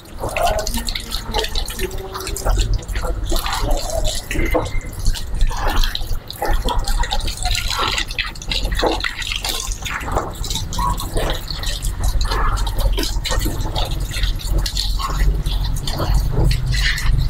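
Steady splashing and trickling of water poured onto packed soil fill for a house floor, continuous and close, with a low rumbling background throughout.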